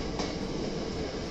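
A train at a Hankyu railway station platform in Japan sends a steady, fairly quiet rumble across the whole moment, with no talk over it.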